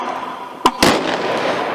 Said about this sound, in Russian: Прозвучал оружейный салют.